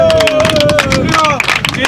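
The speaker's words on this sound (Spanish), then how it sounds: "¡Un aplauso, gente!" A crowd at a freestyle rap battle semifinal claps and cheers in a dense burst of applause, loud and close, with a host shouting over the noise.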